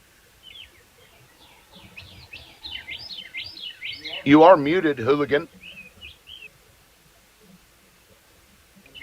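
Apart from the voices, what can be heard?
birds chirping outdoors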